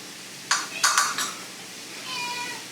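A cat meows a few times in short, bright bursts, then lets out a longer, fainter drawn-out call in a quiet room.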